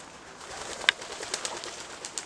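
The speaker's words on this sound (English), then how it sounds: "Don't shit on me, pigeon." A pigeon coos faintly outdoors near an old wartime airfield base, soft calls under steady background hiss with a sharp tick partway through.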